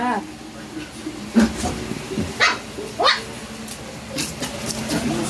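A playful dog barks and yips in short bursts, close by, while a person talks and laughs to it between the barks.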